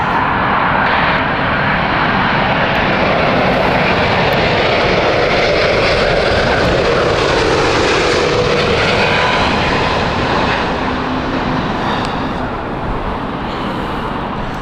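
A Eurowings airliner arriving at Heathrow Airport in crosswinds, its jet engines a loud, steady broadband roar that holds close and constant for the whole stretch, with no voices.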